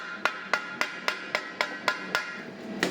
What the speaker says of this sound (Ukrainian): простукаємо, щоб воно не репнуло